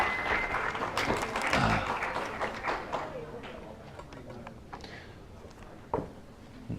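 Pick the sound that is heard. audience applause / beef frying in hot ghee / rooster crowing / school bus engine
audience applause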